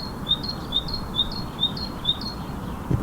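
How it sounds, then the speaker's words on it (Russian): A common nightingale sings a clear, repeated high phrase about five times in a steady rhythm, loud and close over a soft background hiss. "Боже, как громко поет соловей."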